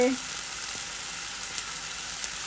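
Washed dried fish dropped into tomato gravy simmering in a pan, heard as a steady soft sizzle and bubbling that holds at an even, fairly quiet level throughout.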